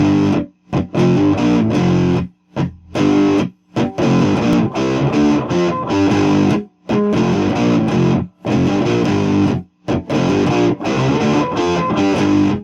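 A distorted electric guitar plays an opening riff, loud and close, with short gaps between phrases and a gritty, saturated tone throughout.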